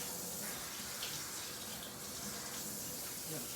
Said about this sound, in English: So I'm going to fill the sink up